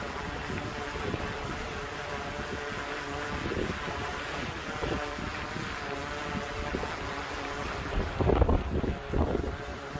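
Strong wind gusts roar steadily past the microphone during a DJI Mavic 3 drone wind test, a constant buffeting hiss that swells in a couple of heavier gusts near the end.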